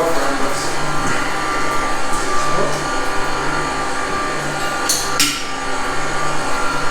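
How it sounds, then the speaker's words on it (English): Tools clank and knock while a dairy milk lift pump is taken apart in a milking shed, sharp metallic hits over a steady loud machine hum, with voices faintly in the background. "taking the milk lift pump apart"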